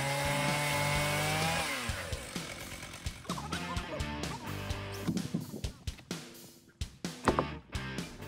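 A chainsaw runs loud and close, its engine revving and bogging in uneven bursts as it bites through an oak log nearly 3 meters in size, with sharp knocks near the end.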